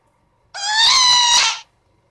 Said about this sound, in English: That's the sound you make when you die in a horror game.